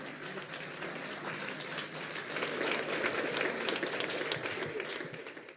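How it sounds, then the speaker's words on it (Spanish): A room full of people at a church service claps warmly to welcome a pastor, steady dense applause that swells slightly in the middle and continues throughout. "Así que recibimos al pastor Tomás Luna, le recibimos con un aplauso de cariño."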